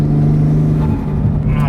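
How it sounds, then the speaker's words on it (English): A car engine idles with a steady low drone and faint turbo whine, loud and close throughout. "It's been fun having a daily that makes turbo noises"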